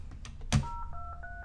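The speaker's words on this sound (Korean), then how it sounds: "전화나 이런 키음들이 다 각각의 소리를 가지고 있나 보죠?" Telephone keypad tones: a short sharp click followed by a few brief, clean two-pitch beeps in quick succession, quiet and isolated.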